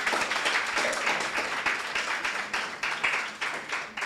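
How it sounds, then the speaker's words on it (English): Applause for school debaters at an inter-secondary schools debating competition: steady, dense clapping from a hall audience that fills the whole stretch, with the beats rising and falling slightly and no talk over it. "A round of applause for each debater."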